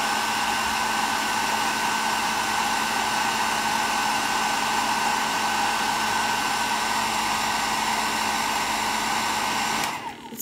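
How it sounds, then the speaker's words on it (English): A loud, steady blow dryer roars continuously at close range, drying a miniature clay pot, a constant airy whine that cuts off abruptly at the end. "I use a dryer."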